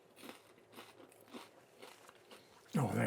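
A few crisp bites into a crunchy vegetable samosa, followed by a short louder sound at the end.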